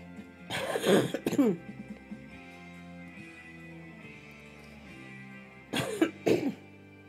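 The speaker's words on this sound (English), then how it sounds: "So tired of coughing." A person coughs twice, close and alone, each time in a short fit of a few harsh coughs, with a quiet pause between the two fits.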